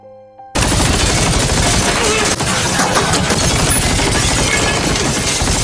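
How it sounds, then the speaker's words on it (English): Heavy machine gun fire in a film battle scene, a loud continuous fusillade of rapid shots that bursts in after a brief quiet moment and keeps hammering without pause. "At that moment, Cream saw a heavy machine gun"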